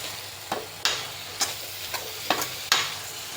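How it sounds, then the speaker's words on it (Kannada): A spoon stirs chili powder into egg bhurji masala in a pan, making a steady run of scraping strokes, about one every half second, over a soft sizzle, close up with no voices. "ಖಾರದ ಪುಡಿನ ಈಗ ಮಿಕ್ಸ್ ಮಾಡ್ಕೊಳ್ಳೋಣ."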